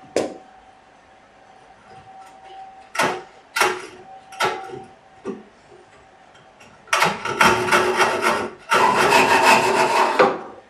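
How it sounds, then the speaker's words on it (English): A hand saw cuts through wood, its blade sliding along a vertical guide, with a few short separate strokes followed by two longer bursts of steady, close, rasping sawing. "make sure that you watch the blade is sliding along the side, but don't put too much pressure inwards"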